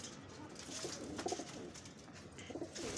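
A pigeon coos in short repeated bursts, faint and close, with light rustling and bird calls in a quiet setting.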